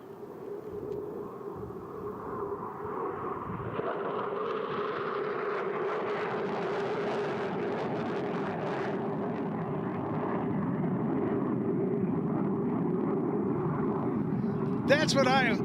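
An F-100 Super Sabre jet fighter passes over an air show at Selfridge with a loud, sustained engine roar that builds and holds for many seconds, and an announcer talks over it.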